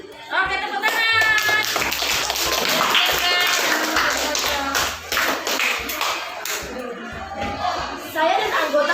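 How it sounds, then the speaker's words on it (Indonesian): A class claps together in quick, dense rounds of applause, the clapping steady and close with voices calling out over it before it tapers off. "Oke, tepuk tangan."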